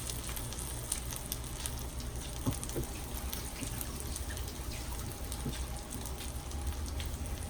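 Stuffed French toast sizzling in a skillet, a steady close crackling hiss that stays even throughout with no talking.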